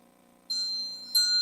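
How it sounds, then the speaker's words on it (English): A spirit bell with no moving parts gives two clear, bright dings about half a second apart, each ringing on with a sustained metallic tone over a faint low hum. "It will make a nice bell sound"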